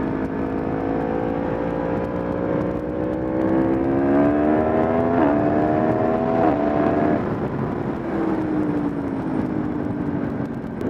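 A Yamaha MT-10 motorcycle engine hums steadily with a layered, rising and falling tone, revving slightly up and down at close range with no voices over it.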